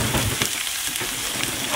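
Sausage sizzles and crackles as it fries in a pan, a steady close hiss of frying with small pops over the whole short stretch.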